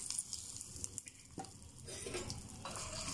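Oil for a cucumber chutney tempering with curry leaves and asafoetida sizzles and crackles faintly while a spoon stirs and taps the pan in irregular clinks, quiet and close with no talk.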